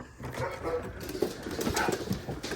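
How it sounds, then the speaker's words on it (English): Puppies whimpering and yipping softly in a small, busy space, with brief faint barks and rustling throughout. "there's a bunch of puppies in here"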